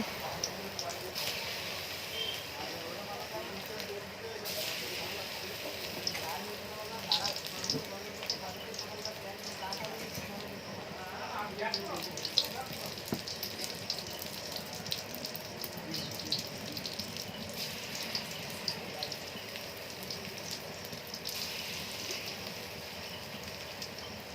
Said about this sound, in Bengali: তেলটা গরম হয়ে গেছে, দেখেই বুঝতে পারছেন। এখন আমি একে একে বড়াগুলো দিয়ে দেব।